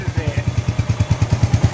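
Royal Enfield Hunter BS6 motorcycle engine running with first gear engaged during a routine service and chain cleaning. It gives a steady, rapid, even thumping throb close by.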